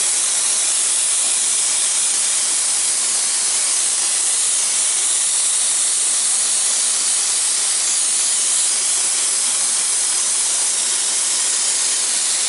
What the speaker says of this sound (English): I just pull back the gel coat gun